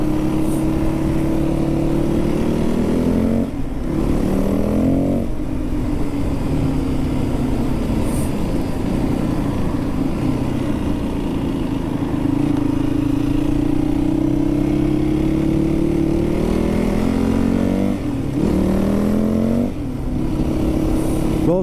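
Yamaha WR450F motorcycle engine revving loudly and close, rising in pitch through each gear then dropping briefly at the shifts, running continuously under wind noise.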